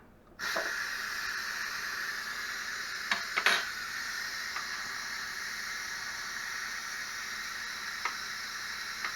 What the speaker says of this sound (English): let's release the steam